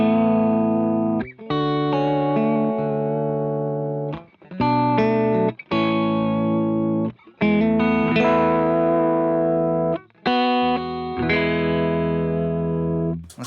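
An electric guitar runs through J Fram's pedalboard, letting chords and notes ring and sustain through distortion, reverb and modulation effects, in several long phrases separated by brief gaps, loud and close with no talking.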